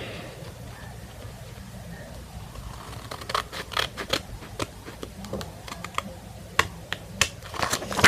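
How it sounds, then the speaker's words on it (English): Scissors cut through paper while a cootie catcher is made: a scattering of sharp snips and crisp clicks, close and uneven, denser in the second half over a quiet room. "Okay, I cut one side off."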